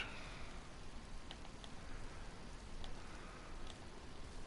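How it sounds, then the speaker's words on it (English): Rain falls in the DayZ survival game on PS4, a soft, even hiss with a few faint patters, fairly quiet and steady with no voices. "Ooh, it's starting to rain."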